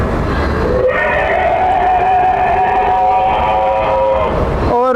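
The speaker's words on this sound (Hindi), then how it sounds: "आवाज़ें डायनासोर्स की आप सुन सकते हैं।" An animatronic dinosaur at the Jurassic Research Center in Penang lets out a long, loud, wavering groaning roar that rises and then trails off, heard close over crowd noise with a brief second cry at the end.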